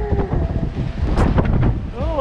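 Strong wind on a cruise ship deck, 128 feet above the waves, buffets the microphone in a steady roar, with excited voices and a brief whoop over the gusts.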